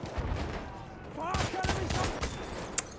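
Autoloading 8.25 rifle gunfire in the World War I shooter Battlefield 1, a cluster of sharp shots around the middle amid busy battle noise, with a voice partly under it.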